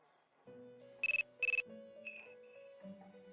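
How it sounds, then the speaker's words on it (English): Cell phone ringtone in the video game Persona 3 Portable: two bright electronic ringing bursts in quick succession over a soft background music melody, no voices. "Your cell phone is ringing."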